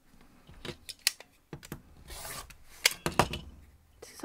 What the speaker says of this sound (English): And we're going to cut those in half.